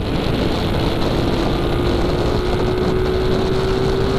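A motorcycle fitted with a Miosporty V8 V3 Silent Killer exhaust pipe revs hard and holds at a loud, steady high pitch with a rough exhaust roar, up close with no voices.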